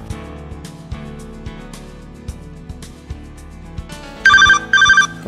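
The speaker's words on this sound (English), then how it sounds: "Okay, the call comes in." An LG Dare VX9700 Verizon phone rings with an incoming call, its electronic ringtone sounding in two short loud bursts after a stretch of quieter tapping and handling noise.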